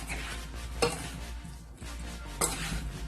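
Chicken hearts being stirred into a marinade with a spoonful of olive oil, a soft wet squelching churn close up, with two sharper scraping strokes against the bowl.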